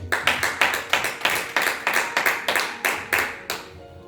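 A congregation at a church thanksgiving service claps in unison, roughly a dozen sharp, evenly spaced claps in a brisk rhythmic beat, loud and close.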